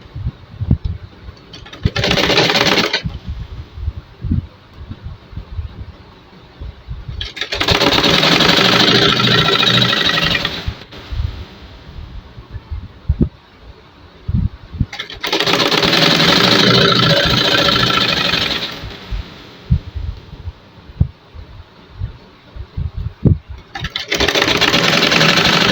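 An electric sewing machine stitches the elastic waistband of a pair of pants, whirring loudly in four long runs of several seconds each, separated by quieter stretches of cloth handling.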